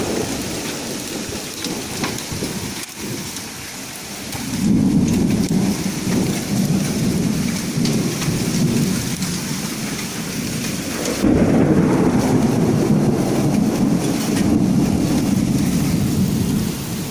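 Hailstorm with heavy rain and thunder in Yerragondapalem, Prakasam, a steady roar of rain and hail on surfaces swelling louder twice, with deep thunder rumbles rolling underneath throughout.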